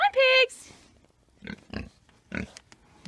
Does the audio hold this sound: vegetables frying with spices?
no